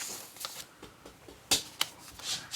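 A sheet of scratch paper is pulled out and handled at a crafting table, giving several sharp, close rustles and crinkles with uneven gaps and a couple of louder snaps near the middle.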